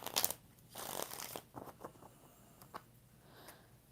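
Tarot cards being shuffled by hand in a few quick, papery riffling bursts, close and fairly quiet, with short pauses between them.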